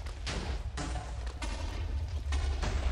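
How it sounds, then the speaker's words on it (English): Booming explosions keep going off in a Minecraft modpack Nether sphere, a few heavy blasts spread over a couple of seconds with a continuous low rumble between them. "Explosions all over the place"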